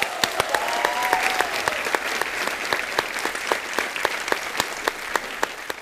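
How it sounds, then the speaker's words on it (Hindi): A studio audience at a comedy show claps hard and fast, with sharp individual claps standing out over a thick, sustained round of applause. It keeps a loud, even level throughout, with a faint voice underneath. "जोरदार तालियां बजाएं।"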